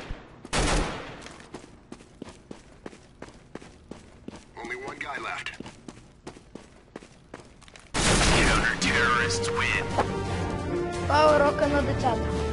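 Gunfire in the video game CS:GO: a run of sharp, evenly spaced single shots, then a loud, dense sustained burst of automatic fire with other game sounds over the last few seconds.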